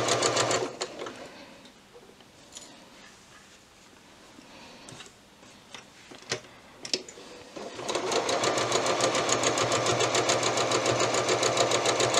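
A sewing machine stitches patchwork pieces with a quarter-inch seam, running in a steady fast whirring rattle from about eight seconds on after quiet handling noises and small clicks.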